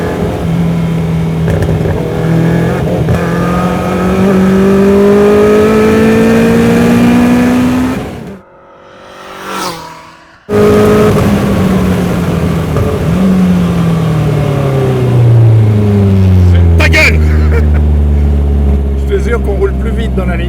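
A Caterham sports car accelerates hard on a race circuit, its engine note climbing through gears, loud and close, with a brief gap and then another strong pull, with people talking and shouting over it.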